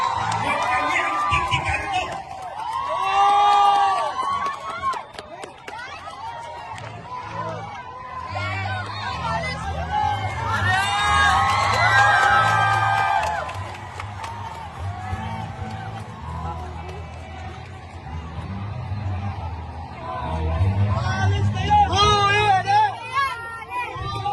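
A large crowd at a religious group's street rally shouts and cheers in waves, the loud, dense hubbub swelling and fading while voices call out over the noise.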